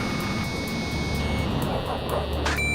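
Jet engine roar from an aircraft in the Ace Combat 5 video game, a steady broad rushing drone with a faint high whine running throughout, loud and continuous, with game sounds layered over it.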